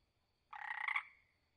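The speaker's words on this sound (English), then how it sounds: "California tree frog." A California tree frog gives a single short, raspy call lasting about half a second, close and clear against a quiet background.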